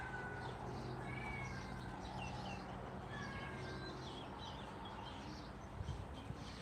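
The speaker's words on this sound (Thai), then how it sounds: "น้องเหมียวอ้อนอยากออกมาด้วย" A pet cat meows to be let outside on a fine evening, its cries fairly close over steady background hiss, with faint birds chirping in the distance.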